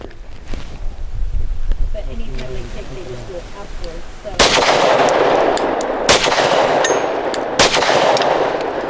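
A Canik METE SFX pistol firing on a range, with several loud, sharp gunshots ringing out in the second half at irregular intervals, after a stretch of quieter background sound.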